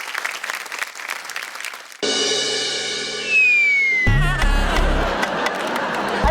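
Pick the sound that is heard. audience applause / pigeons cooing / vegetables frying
audience applause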